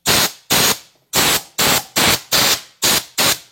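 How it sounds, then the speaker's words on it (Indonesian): WD-40 sprayed onto a noisy car AC compressor clutch in eight short, loud aerosol bursts in a steady rhythm, each hissing blast separated by a brief pause, close up with no talking. "ini adalah cairan WD-40. Oke, jadi ini sudah lancar. Oke, kita semprot saja."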